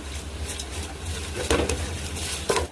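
Onions sizzling in hot oil with ginger-garlic paste as it's stirred, steady low frying hiss with a couple of brief clinks from a spoon against the pan, close and moderately loud, for a prawn biryani.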